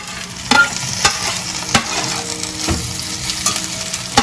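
Okra slices already fried once drop into a pan with a little hot oil, making a loud, close, continuous sizzle punctuated by sharp scraping stirs of a spatula.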